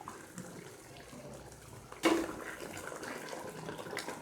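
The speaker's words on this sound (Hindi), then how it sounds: "आधा कप पानी इसमें मैं ऐड कर रही हूँ।" Half a cup of water splashes into a pan of chickpea curry with meat pieces, a sudden pour that starts mid-clip and continues as a soft, close liquid rush over low kitchen background noise.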